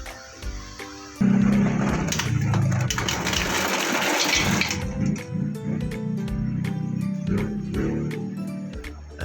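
Small pot of water for cooking quail eggs, rushing and gushing loudly as it is poured or brought to a boil, a steady watery roar with faint clinks, no talk.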